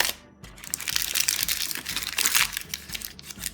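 Sheet of greaseproof paper scrunched up by hand for lining a fruit-tart pastry case, a close, continuous crackling crumple with a brief pause at the start, over soft background music.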